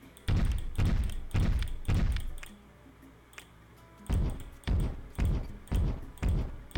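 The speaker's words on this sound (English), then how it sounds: "the noise it makes when you place things in the game is incredibly loud" Object placement in a roller coaster video game: a series of loud, punchy thuds, four in quick succession, a short pause, then five more at a steady rhythm, each striking hard and decaying quickly.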